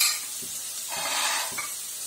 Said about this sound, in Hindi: प्याज भून रहा है